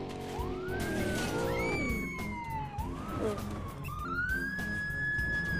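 Police car siren in a mobile open-world driving game, a wailing tone rising and falling steadily and loudly over continuous game engine and traffic noise, with no talk over it.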